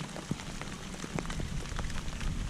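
Pouring rain falls outdoors during a bass fishing trip, a dense, steady hiss of drops with a few close splatters and knocks.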